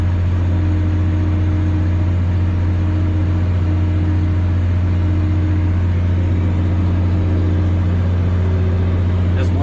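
A farm tractor spreading manure drones steadily nearby, its engine a constant loud low rumble with no breaks.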